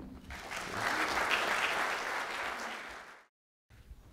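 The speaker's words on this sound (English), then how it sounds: "So give yourselves a big round of applause" Seated audience at a theatre building launch for a community radio station breaks into applause, swelling then tapering off before a short silence and a few scattered sounds.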